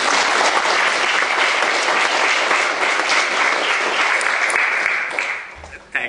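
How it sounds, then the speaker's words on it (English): Audience applause fills a committee session on disability rights: dense, sustained clapping from a large room that holds steady for about five seconds, then thins and fades out. "He really deserves applause."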